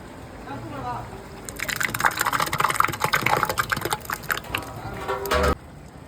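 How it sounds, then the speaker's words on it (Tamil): About two and a half litres of yogurt is poured into a large biryani pot, a thick wet gushing and splattering lasting several seconds, close and loud, after a voice speaks briefly at the start. "நான் இங்கே ரெண்டரை லிட்டர் தயிர் சேர்க்குறேன்"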